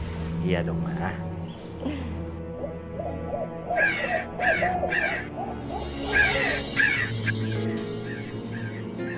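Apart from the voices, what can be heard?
crow cawing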